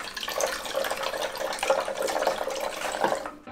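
Milk and water pour steadily into a measuring cup in a kitchen, a continuous close splashing trickle that stops abruptly at the end.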